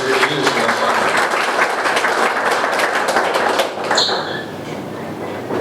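Applause from an audience at a Yanga football club members' meeting, a dense, steady wash of clapping that fills the whole stretch and eases slightly toward the end.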